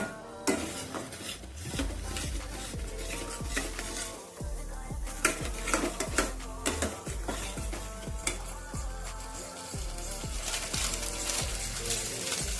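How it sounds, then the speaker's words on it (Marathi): Ground masala paste and chickpeas being sautéed in a pan, with a spoon scraping and stirring in repeated rhythmic strokes over a steady sizzle, close and fairly loud throughout, no speech. "मिक्सरला फिरून घेतलेलं घालून घेऊया एक दोन ते तीन मिनटे परतून घेऊ"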